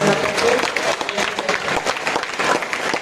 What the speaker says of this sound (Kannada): ಅವ್ರಿಗೋಸ್ಕರ ಜೋರಾಗಿ ಚಪ್ಪಾಳೆ.